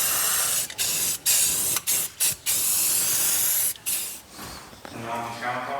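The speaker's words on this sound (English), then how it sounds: "I'm gonna go spray paint this." Spray paint can sprayed in a string of loud, close hissing bursts, some short and some sustained, with brief gaps of silence between them before a quieter rattle at the end.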